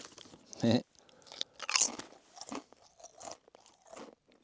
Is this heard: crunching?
yes